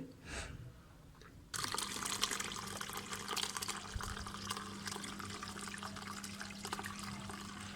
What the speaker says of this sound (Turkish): Şimdi bunu buraya boşaltıyorum. Süzgeçten yardım alıyorum taneler içine girmesin diye.